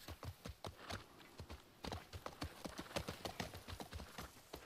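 Horse hooves clip-clop in The Last of Us Part 1, a brisk, close, regular stepping with clear individual hoof strikes and a short pause partway through.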